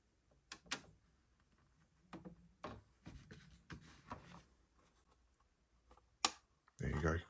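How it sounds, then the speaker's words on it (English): Small sharp plastic clicks and rubbing as a connecting plate is pressed onto a model R.M.S. Titanic kit build, scattered taps ending in a louder burst of handling noise, close up with a quiet voice at times. "there you go, you hear that clicking."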